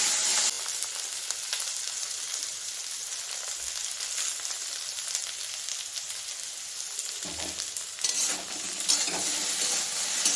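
Okra and potato frying with onion in a pan, a steady close sizzle with stirring scrapes running throughout, slightly lifting near the end.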